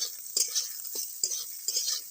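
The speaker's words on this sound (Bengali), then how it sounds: "এখন আমি সোয়াবিনগুলো ভেজে নেব।" Soybeans frying in oil in a wok give a soft sizzle, with repeated scraping stirs of a utensil sounding in an uneven rhythm, close and fairly quiet.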